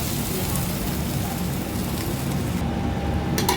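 Rice frying in white oil and ghee with bay leaves and whole garam masala gives off a steady, dense sizzle close up, like soft rain, running unbroken throughout.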